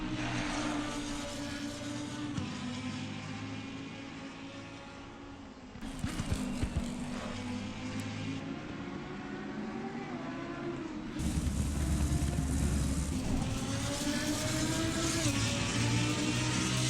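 Lamborghini race car engine in the racing game Assetto Corsa Competizione, heard from inside the car as a sustained droning roar whose pitch climbs and drops through gear changes, with abrupt jumps in loudness and no voices.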